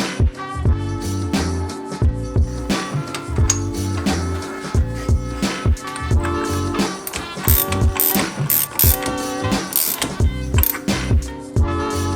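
Rapid ratchet clicking comes in repeated bursts as new red wheel studs go into the hub of a Porsche 911 Turbo under restoration, the busy mechanical ticking loud and close throughout with no talk.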